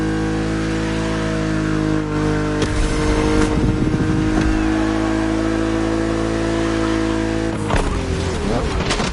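A BMW Z roadster's engine hums steadily in The Crew Motorfest, with sharp revving bursts near the start and again toward the end.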